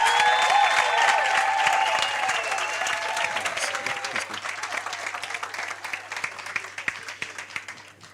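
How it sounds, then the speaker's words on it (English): Loud applause fills a room at a business workshop, starting as a dense roar over a sustained tone, then thinning into scattered individual claps as it fades toward the end. "Let's give Zintle a round of applause."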